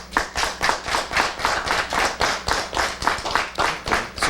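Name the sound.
studio audience applauding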